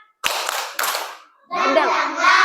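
Children do a spirit clap in a classroom lesson: two sharp, loud clap bursts, then young voices chanting a rhythmic cheer.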